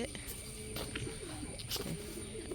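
Soft pigeon cooing comes through a busy background of faint chirps and clatter, low and murmuring rather than loud.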